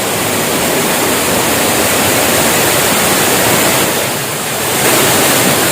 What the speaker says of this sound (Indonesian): Ya, sob, ini kita sudah berada di air terjun.